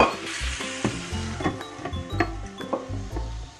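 Pork adobo stirred in a pan with a sizzling undertone, giving repeated scraping and clattering strokes at a steady rhythm, loud and close.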